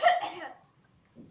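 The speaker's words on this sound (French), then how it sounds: "Toussez." A single short cough, close and fairly loud, followed by a faint breath as a patient coughs on command during a doctor's examination.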